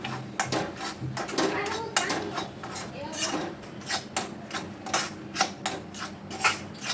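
A spoon sautés coriander powder masala in a pan for dum aloo, making repeated scraping and clattering strokes against the metal, close and steady.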